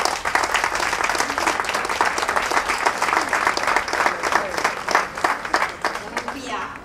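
An audience claps for a singer at an arts and culture event at Aldo Rossi's lighthouse in Lanciano, a dense, sustained round of applause that thins out toward the end.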